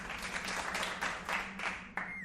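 Faint, steady clapping from a small group of hands, a short patter of applause heard alone, thin and distant throughout.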